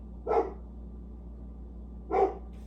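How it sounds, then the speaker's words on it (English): A dog barks twice, about two seconds apart, fairly close and loud over a steady low indoor hum. "the dogs were quiet until now"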